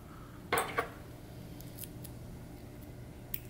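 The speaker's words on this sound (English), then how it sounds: "I'll just take my scissors and trim off the butt ends that are sticking out." Scissors trim the butt ends of material on a fly-tying sculpin pattern, with two quick close snips followed by a few faint metallic ticks in a quiet room.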